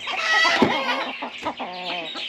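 American Breese chickens cluck and murmur up close in a steady stream of short, throaty calls, several birds overlapping at moderate volume.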